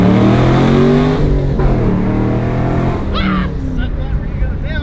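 Chevrolet Camaro engine revving loud and close, a strong rising roar that swells and falls with throttle, with voices talking over it.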